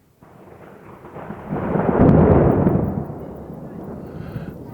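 A low, broad rumble of thunder rolls in, swelling to a peak midway and then slowly fading into a steady background roar.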